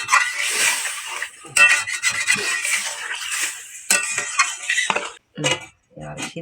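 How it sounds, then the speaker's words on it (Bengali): A utensil scrapes and clatters against a metal pot while bottle gourd greens are stirred, rhythmic close rubbing strokes broken by short pauses, ending with sharp clanks as a lid is set on. "এবার একটু নেড়ে দিয়ে ঢাকা দিয়ে দেব।"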